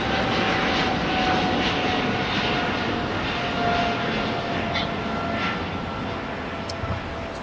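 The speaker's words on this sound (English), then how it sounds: "here is our American Airlines 777 heading back to LHR London Heathrow" An American Airlines Boeing 777 jet departs LAX bound for London Heathrow, its engines a steady, loud roar that holds throughout with no talking.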